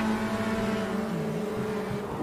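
A race car engine in the Automobilista 2 sim racing game drones steadily under throttle, a loud continuous tone climbing slightly in pitch as the car accelerates.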